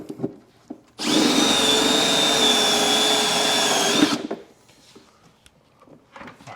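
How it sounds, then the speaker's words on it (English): A unibit step drill bit bores through thick material for a car audio install, a loud, close, steady whine lasting about three seconds before stopping, surrounded by quiet handling clicks. "Now the bit that we just used. That was a unibit."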